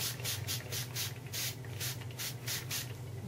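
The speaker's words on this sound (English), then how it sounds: "I'm going to spritz around the corner here." Spray bottle spritzing Vibez Jeni Bleu paint near the corner of a framed art piece: about a dozen quick, close hissing bursts in steady rhythm over a low background hum.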